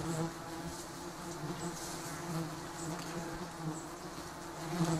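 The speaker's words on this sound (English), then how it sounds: "The giant stinging honeybees build their nests on sparsely leaved trees or rock crevices where they can see the sun." Giant stinging honeybees swarming around a nest, a dense continuous buzz of many wings close by, fairly soft and steady with small swells, with no voices.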